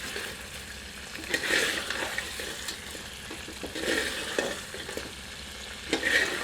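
Mathania chilli chicken masala sizzles in ghee in a pan while a ladle stirs it, soft frying hiss broken by repeated scraping strokes that swell and fade.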